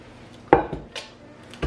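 Cast iron skillets knock and clank as they are handled in a kitchen, two or three short, fairly close impacts separated by quiet pauses.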